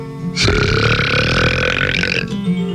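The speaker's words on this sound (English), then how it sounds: "I'd let out with a big ripper." A single long, loud, guttural burp in a radio comedy ad, rumbling for about two seconds and heard on its own.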